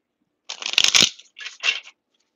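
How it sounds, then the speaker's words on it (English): A deck of cards is shuffled up close in two quick bursts, a crisp riffling flutter followed by a shorter second riffle, with silence around them. "So let me do a good shuffle."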